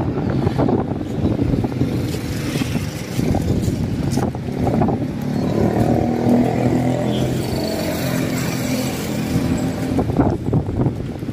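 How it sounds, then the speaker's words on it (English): Steady wind roars and buffets across the microphone beside a busy national highway, with the low rumble of passing traffic mixed in throughout, no talk. "Yes, lots of wind today, that's for sure."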